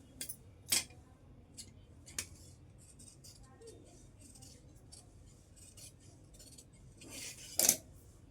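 Scissors making neat cuts, a few short crisp snips spaced apart over a quiet background, with a sharper cluster of snipping near the end.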